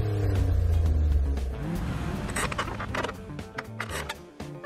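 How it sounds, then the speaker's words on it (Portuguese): A learner driver's car engine revving hard while trying to accelerate with the handbrake still on: a loud, steady low drone that gives way to rougher, fluctuating revs. "Estou acelerando."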